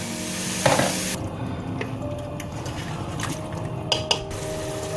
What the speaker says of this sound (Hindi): अब इसमें हम चने डालेंगे जो कि मैंने पहले बॉईल करके रखे थे ताकि मसाले का फ्लेवर इसमें आ जाए।